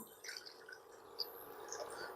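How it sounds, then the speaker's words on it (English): Water trickles and drips quietly into a saucepan set over heat on a stove, a soft, continuous splashing with no talking. "turn on the heat and add water in your saucepan"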